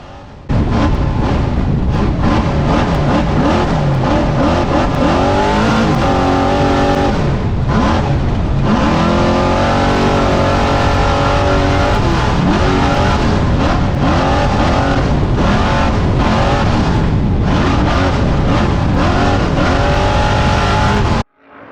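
Ultra4 off-road race cars roar around a track at Sturgis, South Dakota, engines loud and revving hard with rising and falling pitch as cars accelerate and pass, a continuous dense racing din throughout.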